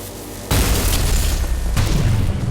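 A rail gun in a video game fires with a sudden loud boom, followed by a sustained, roaring blast with a second surge partway through, with no voices.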